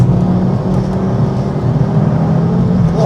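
A 550bhp Ford Focus RS converted to four-wheel drive pulls hard under acceleration, its loud, steady engine drone filling the cabin from close by with no talking.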